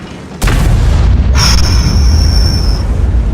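A tank gun fires in a video game, a loud deep boom at the start followed by a second blast with a sustained high ringing whine trailing off, over a constant heavy low rumble.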